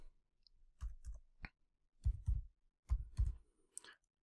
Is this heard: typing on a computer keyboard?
yes